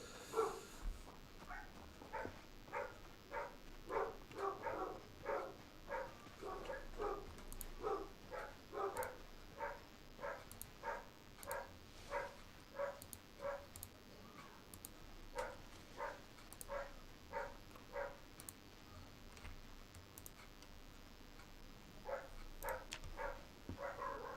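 Dogs barking repeatedly in Project Zomboid, a steady run of short barks at a moderate distance that keeps going with brief gaps, quiet and alone without talk.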